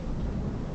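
Low, rumbling thunder from a thunderstorm with rain, a brief continuous deep roll with some wind buffeting on the microphone.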